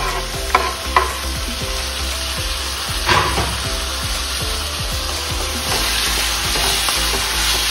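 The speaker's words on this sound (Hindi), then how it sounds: "अब इसमें हम टमाटर डालते हैं" Chopped tomatoes dropped into browning onions frying in a pan for a bhindi recipe, with a loud close sizzle, a few clunks as they go in, then steady stirring scrapes over the hiss.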